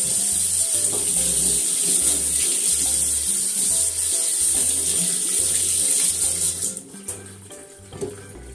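Five green peppers are rinsed and rubbed by hand under a steadily running kitchen tap, with a close, continuous splash that stops near the end and leaves only a few drips and handling noises.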